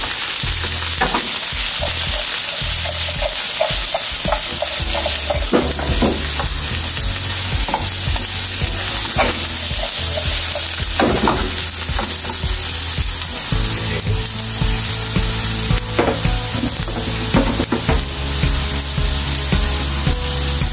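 Onions stir-frying, sizzling and crackling in a hot pan, with a spatula scraping and stirring at intervals, steady and close throughout.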